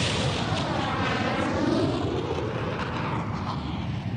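Argentine Air Force jet aircraft roar loudly overhead during the 1982 Falklands attack on Sir Galahad, a broad rushing thunder with a sweeping, shifting tone as the planes pass close by.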